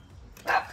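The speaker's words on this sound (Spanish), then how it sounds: "mis perros están latiendo por el vecino" A household dog barks at a neighbor, heard as a single short, moderately loud bark near the end of a brief moment of quiet room sound.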